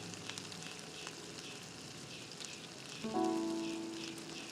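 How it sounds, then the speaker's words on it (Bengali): Khesari lentil fritters frying in a pan of oil, a soft steady crackling sizzle that swells briefly near the end, fairly faint and with no talk. "এগুলো একই প্রসেসে নাড়াচাড়া করে লাল লাল করে ভেজে নিলাম।"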